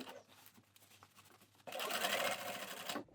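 A sewing machine topstitches the diamond hem of a pair of trousers, starting after a quiet pause with a close, steady burst of rapid stitching that stops abruptly near the end.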